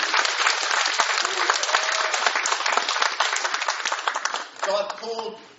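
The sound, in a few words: congregation applauding in church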